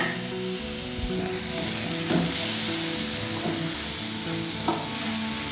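Chopped green chillies and lentils fry in a pan with a steady sizzle, while a spatula stirs with occasional scrapes and soft knocks.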